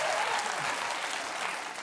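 A studio audience applauds and cheers loudly in a dense, continuous burst of clapping that holds steady and only begins to fade at the end.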